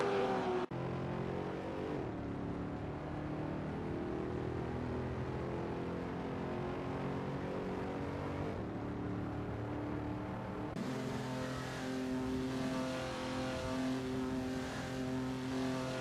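Supercar engines roar around Weatherfield Speedway in a racing video game, a loud, continuous blended drone of revving motors that shifts in pitch and intensity partway through.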